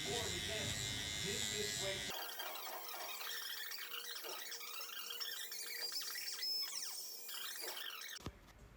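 An electric hair clipper fitted with a guard cuts hair during a taper haircut, its steady close buzz shifting in pitch as it moves through the hair, with a blade that seems to be dulling.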